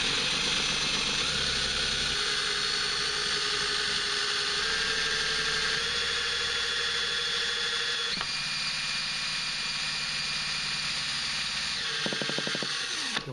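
Cordless drill driving a small Greatwatt wind turbine to test it, a steady high whine with shifting tones as the speed changes, ending with a few brief clicks.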